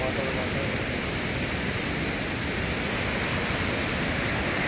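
Hogenakkal waterfall roaring as a steady, dense broadband rush of falling water, constant and unbroken throughout with no distinct events.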